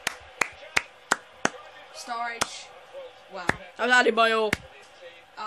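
Sharp, loud hand claps ring out in a quick series at first, then scattered singly while people talk and exclaim nearby during a FIFA 15 video game match.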